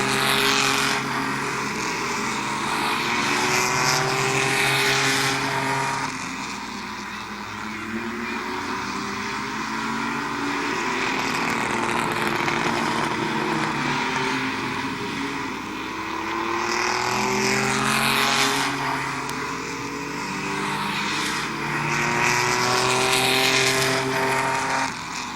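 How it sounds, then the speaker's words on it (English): Mini trucks racing in a heat at Midvale Speedway, loud engines droning and rising in repeated passing waves as the pack laps the track. "Halfway this time, 4 laps in, 4 laps to go on our mini truck heat race."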